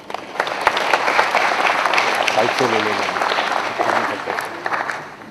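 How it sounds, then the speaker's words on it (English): Audience applause at the BSE CARBONEX index launch in India, a dense sustained clapping from a large crowd filling the whole stretch, with a brief voice cutting in partway through. "Ladies and gentlemen, a big round of applause for everybody who has made this possible."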